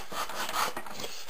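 Heavy-grit sandpaper rubbed across a piece of cut balsa wood, a few quick close rasping strokes in a row with no talk.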